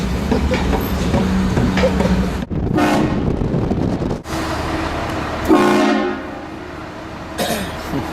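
A train horn sound played inside a car sounds in loud, close tooting blasts over a steady low rumble, with a few short breaks between the horn calls.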